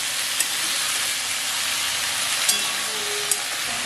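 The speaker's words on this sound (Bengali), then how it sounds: "হালকাভাবে একটু ভেজে নিচ্ছি।" Vegetables and plantain fry lightly in a pan for a Bengali sukto, giving a steady, close sizzle of fine crackling with a few brief sharper pops, no voices.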